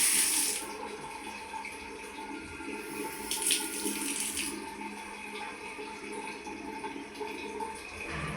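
Tap water runs steadily, splashing into a basin, close and fairly loud, with a few brief higher splashes and no talk.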